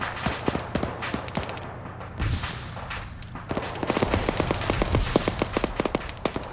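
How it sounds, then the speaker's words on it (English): Combat in a military video game during a hostage rescue in Fallujah: rapid bursts of gunfire and sharp blasts crackle in uneven volleys, with a heavier boom midway. "There are a lot of explosions going out for rescuing some hostages"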